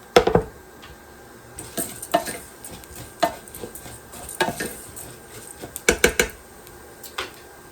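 Rice and pasta being stirred around in a pot for a gluten-free copycat chicken Rice-A-Roni, giving a series of sharp scraping and clinking spoon strikes at irregular intervals over a soft background sizzle.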